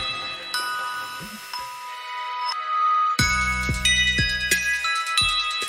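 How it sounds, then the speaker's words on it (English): Podcast intro jingle of bright ringing chimes and tinkling bell tones, sparse at first, then fuller with a pulsing low beat, several distinct struck notes in a melodic run. "The chimes make me happy"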